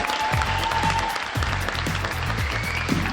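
An audience at an Ethiopian comedy show in Toronto applauds in dense, steady clapping, with a few voices rising underneath.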